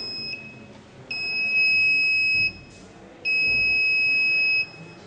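An alarm buzzer in an automatic vehicle smoke monitoring and control system sounds in two steady, high-pitched electronic tones, each lasting over a second, with a brief pause between them over a faint background hum.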